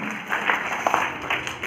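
Audience at an Amber Cultural Society staging of Premchand's play Shatranj ke Khiladi claps for the set, getup and makeup artist, a dense, steady spatter of applause at moderate level lasting under two seconds, with no voices on top.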